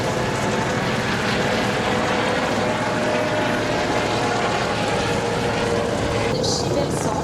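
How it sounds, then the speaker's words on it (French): A French Navy helicopter flies during a demonstration at the naval air base in Hyères, a steady loud rotor and engine drone that holds throughout, with a commentator talking over it. "l'hélicoptère poursuit le Belfast"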